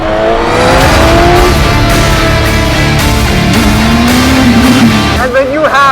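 Suzuki GSX-S1000 motorcycle engine accelerating hard past 8000 RPM, a loud continuous rising roar with climbing pitch and a gear change near the end, close and dominant throughout.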